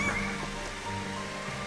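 Steady rain hisses softly and evenly in Final Fantasy XV, a faint continuous wash with no voices.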